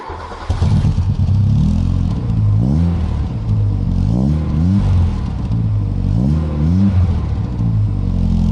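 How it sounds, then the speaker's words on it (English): A 1986 VW Golf engine runs after an oil change, idling loudly and steadily up close with several rising revs, and no voices. "I'm going to run the car for a minute"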